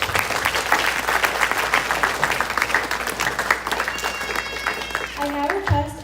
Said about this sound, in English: Please give them another big round of applause.